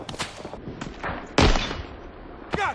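Gunfire in the Vietnam War shooter game Rising Storm 2: Vietnam, a few sharp shots with one loud booming rifle report partway through, mixed with other game sounds and brief voices.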